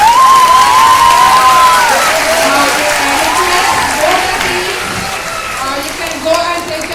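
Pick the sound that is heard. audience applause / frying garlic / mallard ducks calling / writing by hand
audience applause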